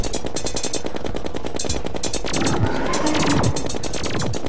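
Rapid automatic weapon fire in Terraria during the fight against the boss Skeletron, a dense continuous stream of loud shots over busy game sounds, with crashing hits layered in partway through.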